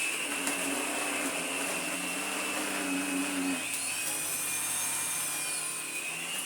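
Vorwerk Kobold VK200 vacuum cleaner running on its soft brushing mode, a steady close whine with a high pitched motor tone that shifts slightly partway through.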